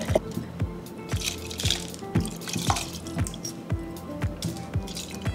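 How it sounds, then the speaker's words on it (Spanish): Rice, cinnamon and soaking water poured into a blender jar for coconut rice horchata, giving soft wet drips, splashes and squishy liquid sounds in an irregular close-up patter, with no talking. "en el vaso de la licuadora, vamos a agregar el arroz, la canela y el agua donde se remojó"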